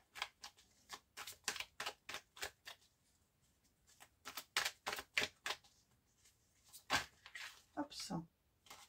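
A deck of oracle cards being cut and shuffled by hand gives a rapid series of crisp papery riffles and taps, with a pause midway and a soft voice at the end.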